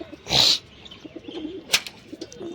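Pigeons coo at a rooftop loft net: one loud, close burst of cooing, then a few softer coos and light rustling over quiet background.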